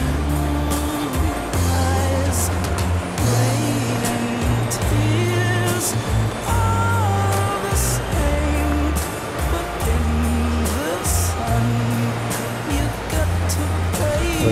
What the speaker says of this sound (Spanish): Pero coches hay.